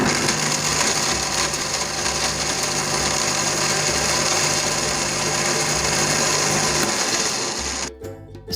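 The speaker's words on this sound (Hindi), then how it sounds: "ये सारे मसाले जो भी हैं हम अच्छी तरीके से ग्राइंड करेंगे।" An electric grinder grinds whole garam masala spices, including cloves, green and black cardamom, nutmeg and mace, with a loud, steady high-speed whirring buzz. It runs continuously close up, then cuts off abruptly near the end.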